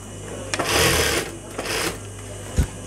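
A sewing machine stitching a garment, heard close and loud as two steady whirring runs of stitching separated by a short pause, with a sharp mechanical clack near the end.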